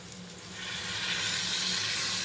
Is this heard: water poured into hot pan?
yes